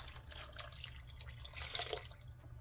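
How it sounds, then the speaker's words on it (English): Beef stock poured into a pot of Irish stew, a steady soft liquid splash and trickle heard fairly faintly over a low kitchen hum. "Now let's add 4 cups of broth or stock."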